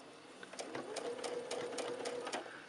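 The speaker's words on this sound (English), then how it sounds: "You're going to sew along this line," Sewing machine stitching quilt pieces for a Lone Star quilt, a steady continuous mechanical whir with rapid needle pulses throughout, close and moderately loud with no talking.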